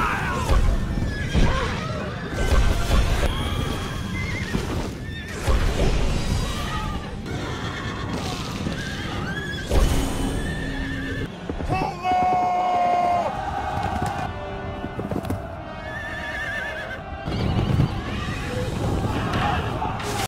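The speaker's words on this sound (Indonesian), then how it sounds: "Saat pasukan berkuda Cao Cao mendekat" Horses neigh and whinny amid a galloping cavalry charge in an ancient Chinese war epic, loud whinnies rising over hoofbeats, crowd noise and a dramatic score, with a narrator talking over it.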